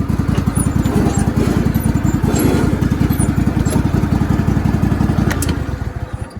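A Craftsman GT3000 lawn tractor's small engine chugs along in a fast, even putter while driving, close and steady, easing off slightly at the end.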